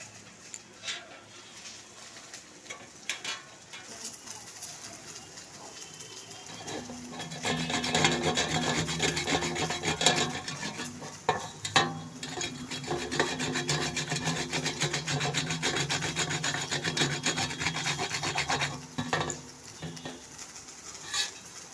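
Peeled pointed gourds rubbed on the fine side of a hand grater, a steady rapid rasping scrape that starts softly and runs loud and continuous for several seconds, close by, with no talking.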